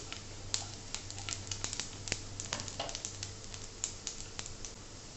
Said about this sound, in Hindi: तो सौंफ भी क्रैकल होने लगी है, आप आवाज़ सुन सकते हैं इसकी।